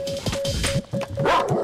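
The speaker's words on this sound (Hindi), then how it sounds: "तू डरना मत, कुत्ता ही तो है" A dog barks several times in short, sharp bursts close by, mixed with yelps and a faint steady tone underneath.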